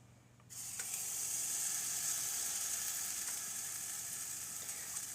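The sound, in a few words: pancake batter sizzling in a frying pan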